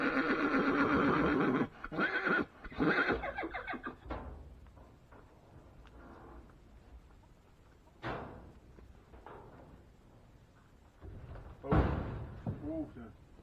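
A horse whinnies loudly up close in a long, wavering neigh near the start, followed by scattered thumps and knocks and shorter vocal bursts later, with some talking.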